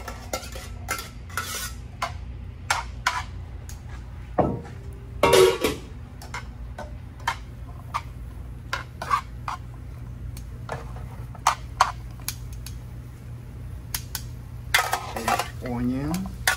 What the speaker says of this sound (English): gotta start saute your garlic. Add mushroom.